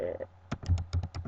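Keys on a computer keyboard are pressed in a quick run of about six crisp, close clicks, following a brief bit of talking at the start.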